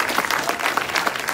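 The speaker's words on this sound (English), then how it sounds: "Can you give yourselves a round of applause?" An audience at a political rally for a national NDP leader claps steadily in a dense, continuous patter of many hands, fairly loud and close, with no talk over it.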